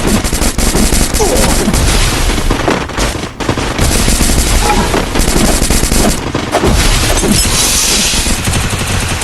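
Video game gunfire: dense bursts of automatic weapon shots and booms, loud and nearly continuous, with short gaps between volleys.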